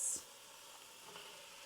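Leeks, parsnips and carrots dropped into a hot pan with ginger and onions, giving a brief soft thump followed by a faint, steady sizzle up close.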